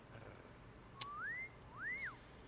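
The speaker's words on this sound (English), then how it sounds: "Oh, he wolf whistled at her." In The Sims 2, a character gives a faint two-part wolf whistle, a quick rising note then a rising-falling one, preceded by a brief click over quiet game ambience.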